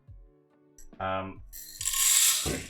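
A coffee grinder's setting dial is turned to a much coarser grind, heard as a few close clicks and mechanical ratcheting, with a brief burst of whirring near the end and no talking.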